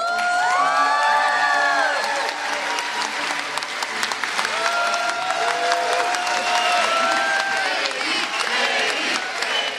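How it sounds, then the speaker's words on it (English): A crowd at Seattle City Hall gives loud, sustained applause with whoops and cheers after Mayor Katie Wilson's swearing-in. The dense clapping fills the room, with shouts rising above it throughout. "that's Seattle's 58th mayor, Katie Wilson, sworn in just a few days ago to thunderous applause at City Hall"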